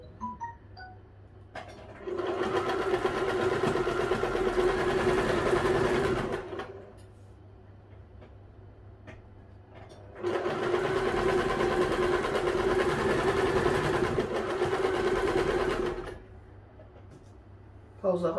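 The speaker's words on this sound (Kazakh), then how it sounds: "Енді бұны тігіп шығамыз." A sewing machine stitches a sweatshirt in two sustained bursts of rapid, even whirring, each lasting several seconds, separated by a quiet pause with a faint background hum.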